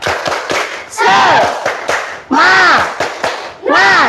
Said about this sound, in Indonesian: Coba diawali dengan tepuk semangat